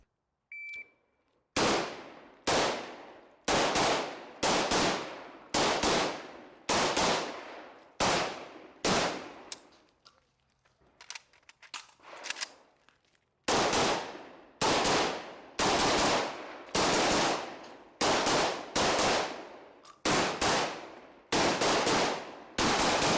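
A Riley Defense AK74 rifle, American made, firing a long series of sharp, loud single shots in a steady rhythm at an outdoor range, each crack ringing out with a decaying echo, with a short quiet pause partway through before the shooting resumes.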